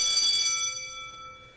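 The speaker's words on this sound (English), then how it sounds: "The class bell rings, disrupting the moment," A school class bell rings out loud and bright, one sustained metallic tone that starts strong and slowly fades over a second or so, heard alone without speech.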